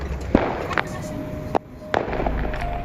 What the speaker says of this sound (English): that is the sound of fireworks in the background